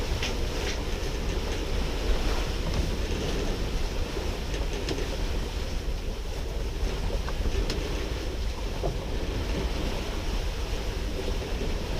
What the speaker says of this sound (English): There's some wind now.